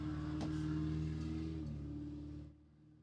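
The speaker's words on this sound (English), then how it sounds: "lifted truck guy had to drive by" A lifted truck rumbles past outdoors, its deep engine drone loud and close at first, then fading away in the last second.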